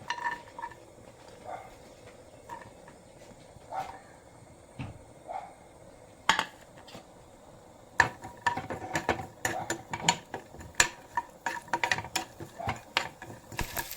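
Chopped coconut roasts in ghee as a utensil stirs it, giving sparse clinks and scrapes at first, then busier metallic clatter and tapping against the pan, with a faint fry underneath.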